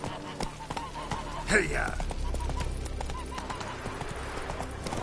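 Roach the horse gallops in The Witcher 3, a steady rapid clip-clop of hooves close by, with a brief whinny-like cry and a voice urging the horse on.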